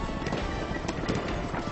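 Horse hooves clip-clop in a fast run inside a video game, with a short whinny, close and fairly loud over a steady game background.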